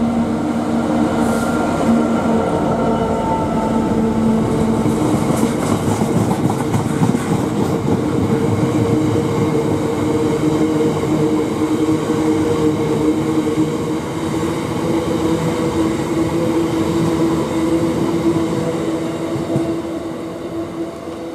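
A Class 66 diesel locomotive, 66084 in unbranded EWS livery, rumbles past at close range with loud, continuous engine drone and rolling wagon noise throughout.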